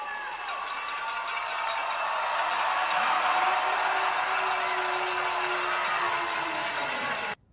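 A hockey arena crowd roars steadily for several seconds, a dense sustained wall of cheering with a faint horn-like tone underneath, cutting off abruptly at the end.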